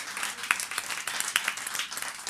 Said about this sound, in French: il faut continuer à applaudir